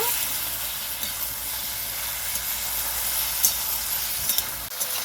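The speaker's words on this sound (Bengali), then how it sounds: "কিছুক্ষণ নাড়াচাড়া করে হালকা করে ভেজে নেব।" Ridge gourd and bitter gourd fry in a pan with a steady, fairly soft sizzle and hiss, broken by a few light stirring scrapes.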